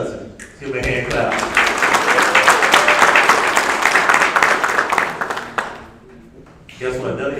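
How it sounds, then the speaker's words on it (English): An audience at a community graduation ceremony claps for a graduate, a lively burst of applause that builds, holds for several seconds and then dies away, with voices speaking before and after. "Mr. Carlos Sutton, give him a hand clap"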